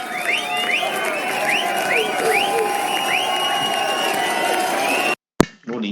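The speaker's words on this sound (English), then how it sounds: "No need for the cheering." Crowd cheering plays during an online Sunday pub quiz. The loud, continuous roar carries repeated rising whoops and runs for about five seconds before cutting off abruptly into brief quiet and a short burst of noise.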